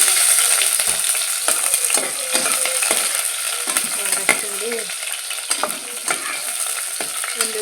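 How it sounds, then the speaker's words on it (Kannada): Onions sizzle steadily in a hot pan for a simple biryani, with frequent scrapes and clinks of a spoon stirring through them; loud and close throughout, with no talking. "ಚೂರು ಕೆಂಪನೇಟ ಫ್ರೈ ಮಾಡ್ತೀನಿ"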